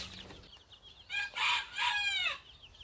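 A rooster crows nearby, a loud drawn-out cock-a-doodle-doo in several rising and falling bursts that stands out over a quiet outdoor background.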